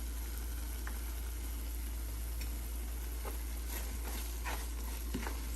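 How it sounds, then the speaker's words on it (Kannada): Ghee sizzling in a pan while beetroot burfi is made, a steady faint hiss with occasional small pops and taps from a spoon. "ಸೊ ಈಗ 1 ಸ್ಪೂನ್ ತುಪ್ಪ ಹಾಕ್ತೀನಿ."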